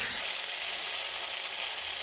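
Mustard seeds and dried red chillies sizzling in hot tempering oil for a gongura pickle, a steady, dense hiss throughout, close and fairly loud with no talk.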